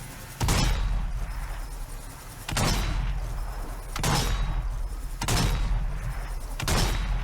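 Heavy gunfire aimed at a Screamer zombie in the video game Zombie Army 4: about five loud, booming shots spaced a second or two apart, each with a long echoing decay. No one speaks.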